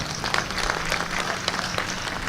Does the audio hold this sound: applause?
yes